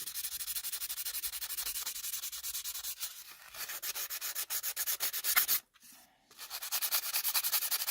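Opal rock rubbed by hand on 320 grit sandpaper in quick, even back-and-forth strokes, close and continuous, with a brief pause before the rasping resumes.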